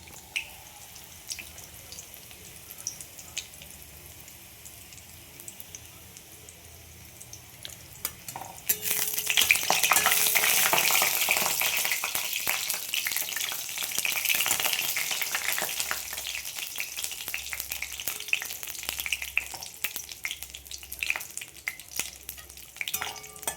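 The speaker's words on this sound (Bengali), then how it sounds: "আমি এর মধ্যে দুটো শুকনো লঙ্কা দিচ্ছি আর ফোড়নে দিয়ে দিচ্ছি রসুন" Dried red chilies and garlic sizzle in hot oil for a spinach and drumstick-leaf dish, first a quiet stretch, then a loud, steady frying hiss that carries on with crackles and drips.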